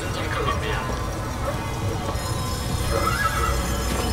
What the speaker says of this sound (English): I want one of these horses. The automatic stallion, the horse of the future.